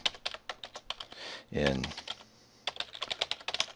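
Rapid clicking keystrokes on a computer keyboard, close and distinct, in two bursts separated by a short spoken word.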